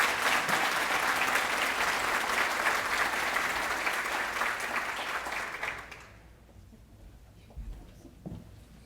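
An audience applauds teachers at a school awards event, a loud, steady wash of clapping for about six seconds before it drops off, followed by a few faint thumps in the quiet room.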